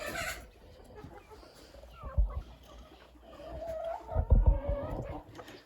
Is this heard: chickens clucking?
yes